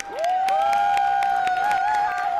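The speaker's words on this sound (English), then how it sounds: "Upon arrival, there were cheers, hugs, and applause." A crowd at an airport applauds and cheers to welcome returning veterans; steady clapping runs throughout, with a sustained high whistle-like tone held above it.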